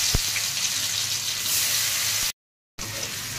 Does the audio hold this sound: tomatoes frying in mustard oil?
yes